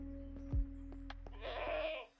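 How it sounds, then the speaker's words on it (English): A goat in the Minecraft modpack Stoneblock 4 lets out a single wavering bleat near the end, preceded by a low steady hum and a few soft clicks, fairly faint. "Oh, hello, Quantum Goat."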